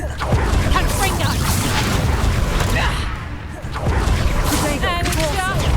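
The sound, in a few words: Confringo blast spell explosion in the video game Hogwarts Legacy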